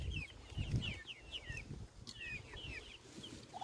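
Chickens cluck and chatter close by in a farmyard, with short repeated calls scattered over soft rustling and low background noise, all fairly quiet.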